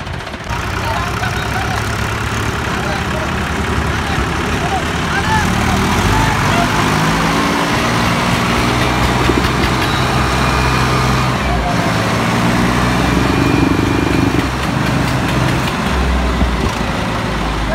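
An old truck that sat unused for 70 years rumbles at idle, a loud steady low engine drone with uneven chugging that roughens midway, while people talk over it.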